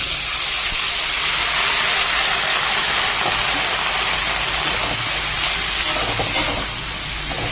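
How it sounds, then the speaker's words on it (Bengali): Chopped vegetables and onion fry in hot oil, making a loud, close, continuous hiss and sizzle that holds steady and eases slightly near the end, with no talking. "তো এই তেলে আমি ভেজে নেব, দিয়ে দেবো কেটে রাখা সবজিগুলো।"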